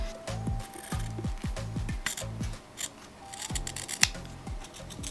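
Scissors cut diagonal lines through fabric for thermal blackout van window covers, with close, crisp snips in quick bursts of repeated strokes. Short pauses separate the bursts, and there is no talking.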